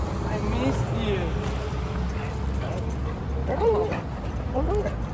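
A pet dog greets returning owners at home, yelping, yipping and whimpering in short excited bursts close by, under a steady background hum with people talking over it.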